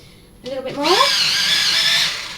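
An electric pencil sharpener grinds a coloured pencil with a loud, steady whir of about a second and a half that begins right after a brief spoken remark.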